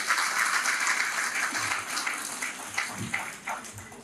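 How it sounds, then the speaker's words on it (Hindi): Applause welcoming a guest at a Sanatan Seva Samiti Hanuman Chalisa recitation in Ludhiana, a steady broadband patter of many clapping hands at moderate distance, holding through the clip with a few louder bursts near the end. "आदरणीय मनीष जी आ रहे हैं, जोरदार तालियों से स्वागत कीजिए।"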